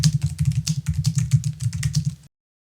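Rapid keystrokes on a computer keyboard patter in an uneven stream of close, crisp clicks while a question is typed, stopping abruptly into silence.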